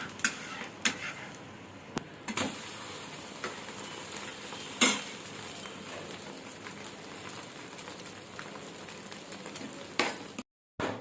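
Dosa batter sizzling on a hot pan at home, a steady soft hiss with occasional scraping clicks from a spatula, moderately close and without talk.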